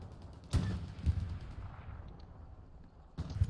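Gunfire rings out in a competitive video game match: a few sharp, booming shots land in quick succession and then again after a short lull, set against a quiet background.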